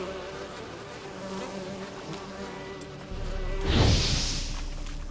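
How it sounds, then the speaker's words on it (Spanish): Swarm of flies buzzing in The Witcher 3 video game, a steady droning hum that swells louder and closer toward the end, heard alone with no talk. "Putas moscas de mierda."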